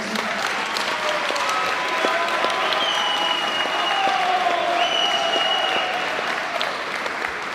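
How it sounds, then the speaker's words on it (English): Audience applause at a high school signing day, a steady dense round of clapping from a crowd filling the room for several seconds, with faint high tones running beneath it. "One last round of applause."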